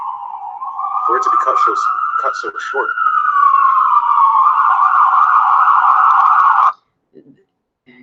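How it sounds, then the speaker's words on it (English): An emergency vehicle siren wails loudly and passes close by, its tone sliding up and down steadily for several seconds before cutting off abruptly, with someone speaking briefly over the start. "there's sirens going by him"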